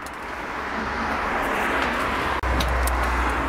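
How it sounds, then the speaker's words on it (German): Cars pass on a nearby road in a steady loud traffic rush that swells and fades slightly, broken briefly by one short sharp knock. "Die Autos fahren hier hin und her."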